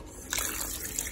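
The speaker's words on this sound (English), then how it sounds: "That was a total of 8 cups of water, warm water at that." Warm water is poured from a measuring cup into a stock pot while making beef stock, heard as a close, steady splashing gush that starts abruptly and keeps flowing without any talking.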